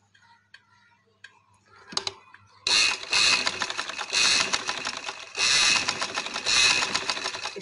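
Sewing machine stitching the elastic casing of a pajama: a few light clicks and taps, then the motor starts and whirs in two long sustained runs with a faint rhythmic ticking, fairly close.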